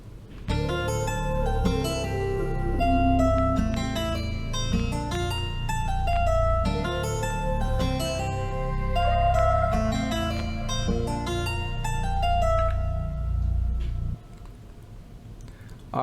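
A guitar melody plays over a steady beat with deep bass, notes ringing and layered, continuing for a long stretch before the beat drops out near the end.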